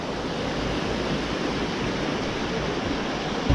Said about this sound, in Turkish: ihtiyaç molası verdiğimiz yerin kenarında küçük bir dere de var